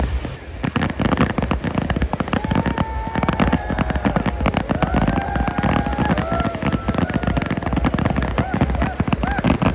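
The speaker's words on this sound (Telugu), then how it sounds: "ఇక్కడైతే ఇంత రాత్రి కూడా క్రాకర్స్ అయితే కాలుస్తున్నారు" Firecrackers crackle and pop continuously at night on a beach in Dubai, a dense, steady stream of sharp bursts with whistling streaks mixed in, heard from nearby.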